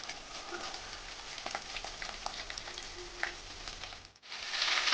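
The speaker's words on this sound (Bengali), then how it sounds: "পনিরটা ভেজে উঠিয়ে নেব" Paneer pieces fry in hot oil in a pan, a steady close sizzle with scattered small pops and crackles that briefly dips before surging louder near the end.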